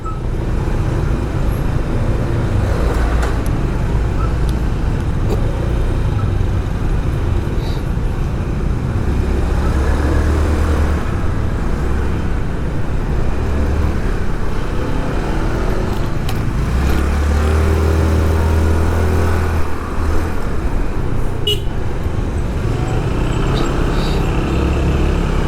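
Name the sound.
morning traffic on congested roads in Bali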